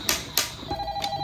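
Toy telephone on a toy fire truck ringing, a few sharp electronic bell rings close by followed by a brief tone, with no speech.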